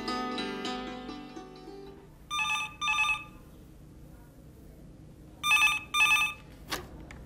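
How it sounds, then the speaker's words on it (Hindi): A telephone rings in two double bursts, a trilling electronic bell separated by a pause, after some faint background music fades out. "अरे सुनती हूँ हत्ती का फोन है"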